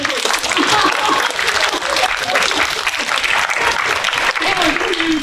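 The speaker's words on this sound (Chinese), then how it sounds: "那我们最后就是给来宾们再最后一次掌声" At a g0v tenth-anniversary forum, an audience gives the guests a round of applause: dense, steady clapping that fills the room from start to finish.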